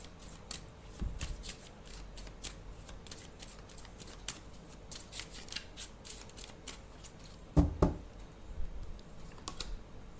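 Tarot cards are handled and drawn nearby, with soft papery flicks, shuffling rustles and a few sharper slaps spread irregularly over the quiet stretch.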